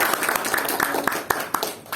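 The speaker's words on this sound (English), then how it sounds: "Applause, please." Applause at a Toastmasters club meeting, a steady, fairly soft spread of many hands clapping continuously from a seated audience, heard from some distance.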